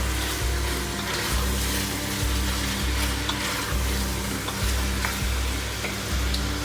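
Spices for a tajine sizzle and fry in a pan while being stirred, a steady crackling hiss with soft rhythmic scraping strokes of the spoon, close up and without talk.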